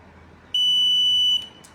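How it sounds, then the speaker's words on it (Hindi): A multimeter's continuity buzzer sounds while a magnetic switch is pressed during testing: a single steady high-pitched beep lasting under a second, clear and close over faint background hum. "दबाने पे बजर की आवाज़ आ रही है"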